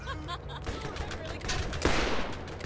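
Revolver fire in the video game Borderlands on PC, a burst of rapid gunshots followed by a louder single crack, set against game background noise.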